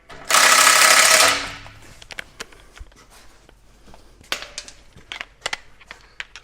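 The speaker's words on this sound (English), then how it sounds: "I'm going to go tighten the inlet to my tailpipe at the muffler." An exhaust clamp on a 2011-2023 Ford 6.2L or 7.3L truck tailpipe at the muffler is tightened with a power tool: one loud, close, sustained whirring burst of about a second, followed by quieter scattered clicks and clanks.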